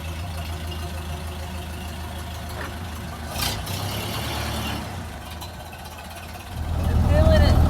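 A Ford Model A car engine idles with a low, steady rumble under a person talking, then grows louder and rougher near the end as it revs up.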